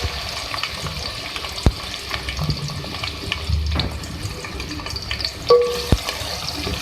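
Onions frying in hot oil in a pan, a steady broadband sizzle that runs throughout with occasional stirring clatter and a few sharp knocks, close and loud, no speech.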